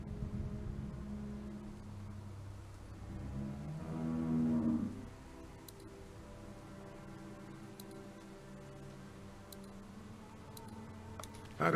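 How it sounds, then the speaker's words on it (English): A cow lowing in the barn in The Walking Dead video game, one drawn-out moo swelling mid-clip over a low ambient hum, with faint ticks and clicks later. "How do you like that cow, Clint?"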